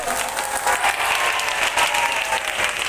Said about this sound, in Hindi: जोर से तालियों के साथ